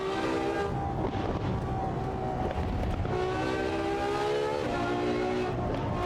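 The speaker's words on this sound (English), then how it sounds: "This car sounds lovely in here." A GT3 racing car engine in the video game Assetto Corsa Evo drones steadily, rising and falling through the gears, with whining pitches climbing and shifting under a constant rumble.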